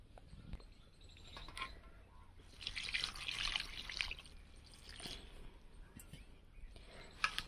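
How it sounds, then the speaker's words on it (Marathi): Fresh fenugreek leaves are swished and rinsed by hand in a vessel of water, soft sloshing and trickling that swells mid-way, with light clinks of the container. "ही मेथीची भाजी मी आता धुवून घेते 2 पाण्याने"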